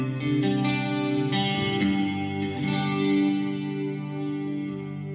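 Electric guitar played on the bridge and middle pickups through a Marshall JMP50-style amp, sustained chords ringing out with a light chorus and reverb shimmer, alone and steady at moderate volume.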